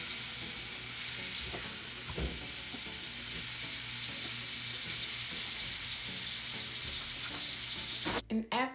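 Scallops searing in hot avocado oil in a pan, a dense, loud, continuous sizzle heard close up with faint crackles and shifts, breaking off briefly at the very end, no speech.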